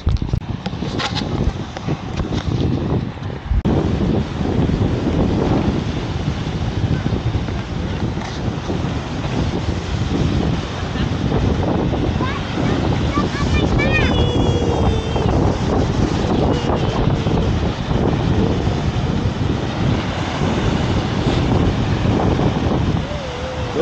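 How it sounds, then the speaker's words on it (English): Big waves at Point Pelee National Park, heard as a steady, loud broadband roar of surf mixed with heavy wind buffeting the microphone, continuous for the whole stretch. "Those are big waves."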